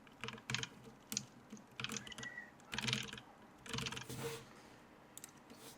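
Typing on a computer keyboard while entering an email address, quick bursts of clicking keystrokes separated by short pauses, close and quiet.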